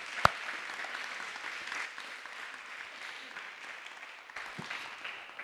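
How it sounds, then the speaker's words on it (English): Applause from the audience for the speakers and participants at a TEDx salon event on children's mental health: steady, fairly distant clapping from a modest crowd, with a sharp louder clap at the start. "Let's have another round of applause for our speakers and our participants."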